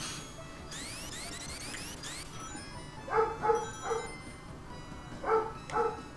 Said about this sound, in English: Oh no, I hear Luna barking in the background